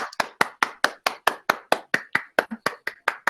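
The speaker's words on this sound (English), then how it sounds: "Big clap to all the winners and to everyone who took part." Steady rhythmic hand clapping from online meeting participants applauding competition award winners, about fifteen crisp claps at an even pace, fairly close and clear with no talking.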